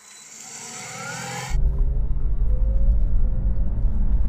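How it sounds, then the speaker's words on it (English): A Mercedes-AMG C63 pulls away from a standstill in town on electric power alone: a faint rising whine first, then a louder, steady low rumble of rolling tyres and road noise takes over. "pulling away from a standstill, we're in town, we need to get ahead of the traffic in electric only mode"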